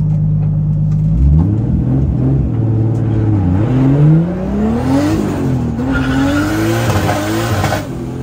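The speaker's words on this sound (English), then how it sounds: "I've never heard it backfire like that." A loud Nissan 240 engine revs hard and climbs in pitch over a constant roaring rumble during a burnout, with loud backfires and a gritty squeal of tires underneath throughout.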